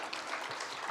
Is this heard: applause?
yes